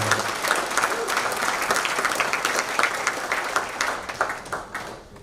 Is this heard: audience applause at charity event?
yes